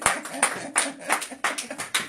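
A church congregation claps to welcome Mama Bibi Tamboué, with sharp, uneven claps in bursts and voices mixed in beneath the applause.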